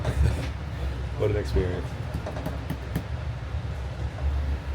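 Passenger train running on rails nearing Chicago, a steady low rumble and rattle of the car throughout with people talking over it inside a small sleeper room.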